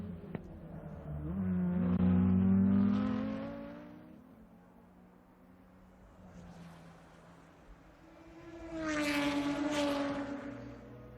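An on-board Lotus race car engine howls around the Zolder circuit, rising in pitch through gears, easing off into a quieter lull, then climbing loudly again.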